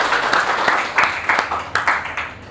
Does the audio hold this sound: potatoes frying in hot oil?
no